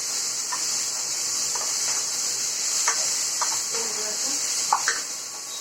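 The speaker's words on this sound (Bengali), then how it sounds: "তো কড়াইয়ে আমি পেঁয়াজটা দিয়ে দিলাম, একটু লবণ দিয়ে দিলাম যাতে পেঁয়াজটা ভালো করে একটু সিদ্ধ হয়ে যায়" Onion with salt frying in a kadai gives a steady high sizzle with scattered soft scrapes and light clinks of a spatula, close and even, no one speaking.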